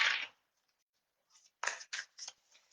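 Stiff new tarot cards being shuffled by hand: a few short papery riffling bursts in quick succession, close and fairly quiet, with near silence between.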